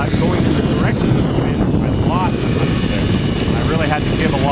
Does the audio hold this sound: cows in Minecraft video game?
no